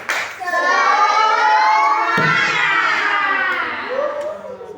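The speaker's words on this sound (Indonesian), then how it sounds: "Tepuk semangat." A class of children does a rhythmic spirit clap, clapping in a quick, steady pattern while their voices shout along, lively and close.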